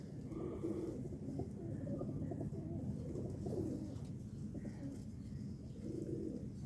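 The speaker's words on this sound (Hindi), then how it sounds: "एक नायाब कबूतर का, सियालकोटी कबूतर है जी" A Sialkoti pigeon coos in soft, low repeated calls at a steady level under a constant background hum, with no voices.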